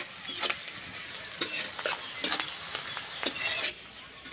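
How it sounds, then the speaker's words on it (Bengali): Onions frying in oil in a pan, a steady soft sizzle broken by several sharp scraping stirs with a spatula, close and fairly quiet, with no voices. "পেঁয়াজগুলো একটু লাল লাল করে ভেজে নেব।"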